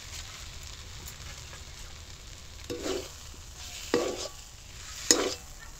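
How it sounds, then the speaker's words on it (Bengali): Mashed boiled potato sautéed with spices in a pan over low heat, a quiet background sizzle broken by three spaced scrapes of a metal spatula, no speech. "এবার আলুর সাথে মশলাটাকে ভালো করে কষিয়ে নেব"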